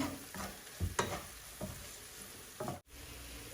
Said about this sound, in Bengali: পেঁয়াজ একটু লাল হয়েছে, এখন লবণ দিলাম।